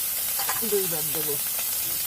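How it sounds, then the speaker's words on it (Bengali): Small fish fry in hot oil with a steady close sizzle and hiss, while a voice briefly speaks over it partway through. "এই মাছ কটা আজকে ভাজা করব"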